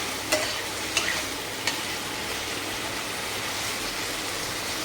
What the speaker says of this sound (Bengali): এটা এবার ভালো করে ভেজে নেব